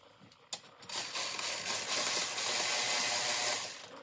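A hand ratchet tightens bolts on an air intake on a Genesis G70, giving one sharp click and then a sustained, close run of dense rasping ratchet clicks for about three seconds, with no talking.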